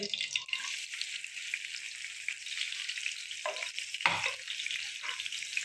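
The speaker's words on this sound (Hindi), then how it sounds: "घी जब तक गर्म हो जाता है तो उसमें 1 कटी हुई प्याज डालेंगे" Chopped onion frying in hot ghee in a pot for chicken pulao, with a continuous close sizzle and occasional clinks and scrapes of stirring at an even, moderate loudness.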